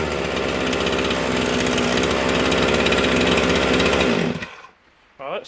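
A Husqvarna 257 chainsaw runs loud and steady for about four seconds at close range, then cuts off abruptly, leaving near-silence and a brief final rattle.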